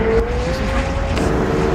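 A McLaren 720S twin-turbo V8 supercar engine drones loudly and steadily from inside the car, a sustained tone shifting slightly in pitch over a short burst.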